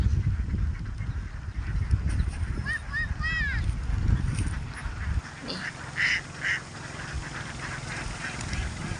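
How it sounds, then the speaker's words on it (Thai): Ducks quack in short bursts while people talk over them outdoors, and the quacking is clustered in a few noisy moments. "พี่ปนครับ เป็ดเขากลัว"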